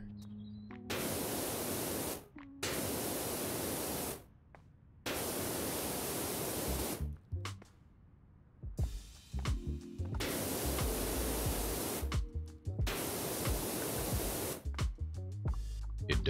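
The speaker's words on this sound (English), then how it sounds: "I think I'll just go with the sprayer for now." A pressure washer sprayer in PowerWash Simulator blasts in long steady hissing bursts, loud and close, cutting off abruptly between sprays with short quiet gaps.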